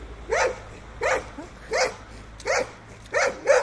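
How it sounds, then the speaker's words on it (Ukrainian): Chained dogs at a boiler house bark in a steady run of six sharp, moderately distant barks, spaced roughly evenly, with a low background hum between them. "В ланцах пси."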